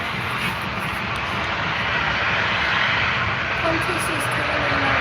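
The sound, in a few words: Jetstar Airbus A320 jet aircraft arriving from Auckland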